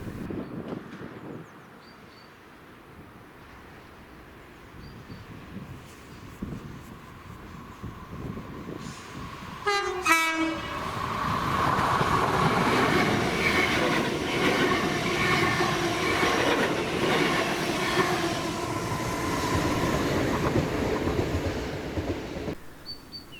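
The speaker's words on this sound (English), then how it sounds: "the 1322 ScotRail service to Dalmuir from Cumbernauld with 32403 in the lead and 32425 in the rear" A ScotRail service from Cumbernauld to Dalmuir, led by unit 32403 with 32425 at the rear, passes Greenfoot: a quiet approach, then a sharp tonal horn-like blast and a sustained close rumble with rhythmic wheel clatter that fades toward the end.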